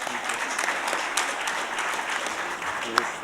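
An audience at an opening round-table session bursts into steady, dense applause that holds loud throughout, with a sharper clap standing out near the end.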